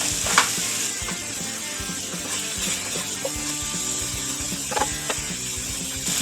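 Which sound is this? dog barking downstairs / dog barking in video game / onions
onions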